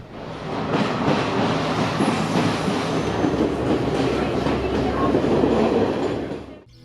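Continuous rumble and rhythmic clatter of a train rolling along rails in Sri Lanka, heard from inside a carriage, steady and fairly loud before cutting off.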